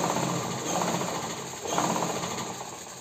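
A sewing machine runs steadily, stitching a thick fitting seam on a ladies' Punjabi suit, with a continuous mechanical whir that dips briefly midway and then resumes, close and without talk.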